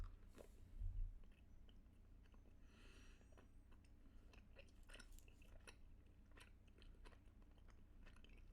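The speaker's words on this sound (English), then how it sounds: "You're gonna get all my crushed chewing in this live version." Someone chews a cherry Starburst candy close up, with soft, quiet squishing and sticky smacking sounds repeating irregularly under a faint background hum.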